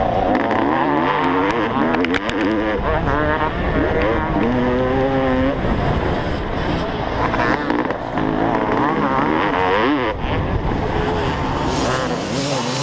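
A 32-year-old Honda CR500 two-stroke dirt bike racing modern dirt bikes up a hillside track, loud engines revving and wailing as they pass close, with a race commentator talking over them.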